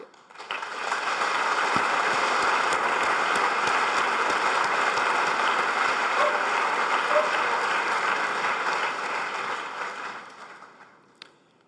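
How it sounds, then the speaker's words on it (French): Sustained applause from a large audience at an award ceremony swells up quickly, holds steady for several seconds, then gradually fades out. "Nous pouvons les applaudir."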